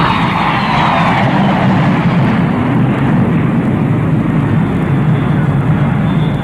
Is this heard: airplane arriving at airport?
yes